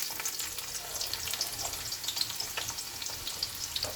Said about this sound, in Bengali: আমি পেঁয়াজ কুচানোটা দিয়ে দেবো